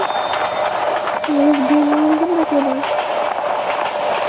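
A train in the Bangladesh railway game Train Simulator Bangladesh rumbles past with a steady roar, and a brief squealing wheel tone rises in the middle.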